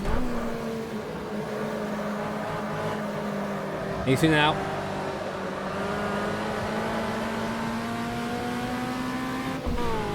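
Turbocharged Volkswagen Beetle racing in the Automobilista sim, its engine droning steadily with shifting harmonic tones as it falls off boost, a brief gear-change burst midway, with someone talking over it.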